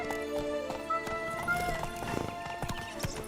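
A horse gallops in the video game The Witcher 3, its hooves drumming in quick, loud, close beats over a background of game music, and it whinnies once.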